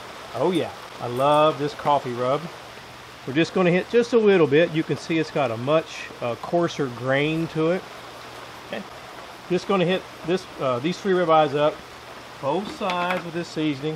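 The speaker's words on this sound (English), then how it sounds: "Sorry for the noise in the back. It's Memorial Day, and it's raining." Steady rain from a tropical storm falls outside on Memorial Day as a constant hiss beneath close talk while ribeye steaks are seasoned for a plow-disc discada cook.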